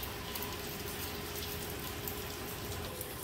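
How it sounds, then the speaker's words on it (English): Steady rain from Hurricane Ian falls continuously, a dense patter of drops on surfaces with a faint hum beneath, even and unbroken throughout. "Right about now, it just seems like regular everyday rain."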